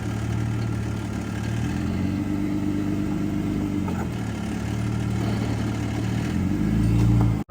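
A rental Jeep on an off-road trail during a recovery, its engine droning steadily at mid pitch, loud and close throughout, with a brief swell of revving near the end.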